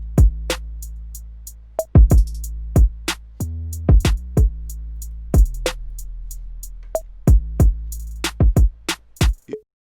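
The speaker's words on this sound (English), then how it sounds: "This one is more like the kick and the 808 and these bongo instruments" A sparse hip-hop beat of deep booming kick and 808 bass under crisp, short bongo hits, repeating in a loose, syncopated pattern.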